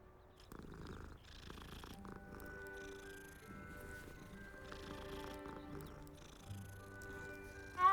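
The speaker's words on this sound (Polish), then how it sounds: "Mruczał, jeszcze zamiauczał." A petted cat in Hogwarts Legacy purrs softly and steadily, a faint low rumble that runs through the whole stretch under quiet game ambience and a few brief sounds.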